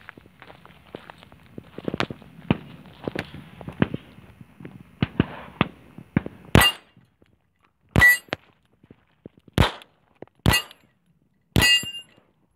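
A Bersa Firestorm .380 pistol fires five sharp, loud shots outdoors, spaced one to two seconds apart, after a stretch of quieter handling clicks and footsteps.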